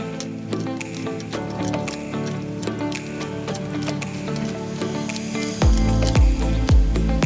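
Chicken sausages cooking in a pan with salt and ground black pepper, a steady crackling sizzle with scattered pops that suddenly grows louder and hissier near the end.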